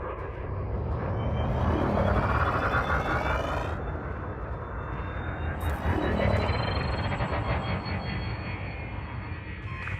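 Spaceship engine in Elite Dangerous throttling up, a loud continuous roaring thrust with rising whine tones and a few bright electronic chirps layered on top, no voices.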